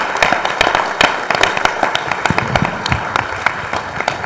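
An audience at a talk claps steadily in a dense, crackling burst of applause, loud and sustained throughout without letup.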